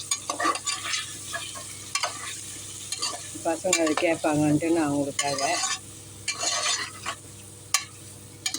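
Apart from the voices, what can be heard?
stirring and frying in a pan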